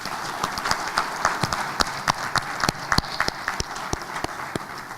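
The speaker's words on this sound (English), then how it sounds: "please give yourselves a round of applause" A convention audience in Abuja, Nigeria applauds, a sustained crowd of clapping with sharp individual claps standing out, loud and continuous.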